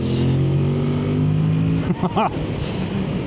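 A 2025 Yamaha MT-07 Y-AMT parallel-twin motorcycle engine hums steadily, then revs up in two sharp, rising bursts near the end, loud and close.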